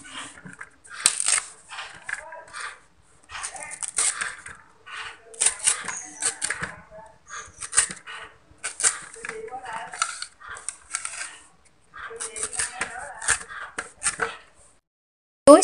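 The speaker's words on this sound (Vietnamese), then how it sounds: "Và chúng ta sẽ cắt hết cái phần chuối này ha." A knife cuts boiled waxy bananas into pieces on a board, making repeated crisp chopping taps in short bursts with pauses between, close and fairly loud.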